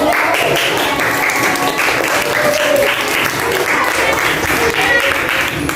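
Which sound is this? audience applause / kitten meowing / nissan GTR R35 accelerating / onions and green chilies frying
audience applause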